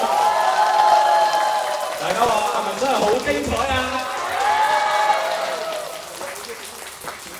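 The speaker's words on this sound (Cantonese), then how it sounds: "唔好孤寒，俾多啲掌聲同埋歡聲佢哋" An audience at an elderly care home's 41st anniversary celebration applauds and cheers the performers. Dense, steady clapping continues throughout with a voice talking over it.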